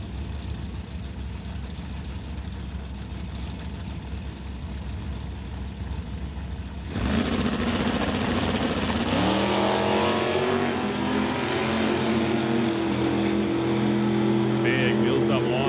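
A drag-racing Plymouth Barracuda and a Stone Cold Racing Dodge Dart idle and then launch hard together at a Doorwarz non-electronic series event, the engines rising abruptly into a loud, sustained roar with an announcer talking over them.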